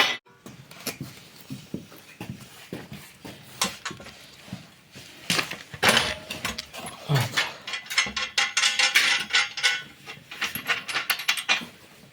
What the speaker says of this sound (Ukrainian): Вставляємо сюди болти ну і пробуємо його наживити.